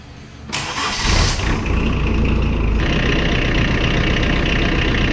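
Engine of a 1998 WoodMizer LT40 Super hydraulic sawmill cranks and catches, rising sharply to a loud, steady running roar that continues to the end.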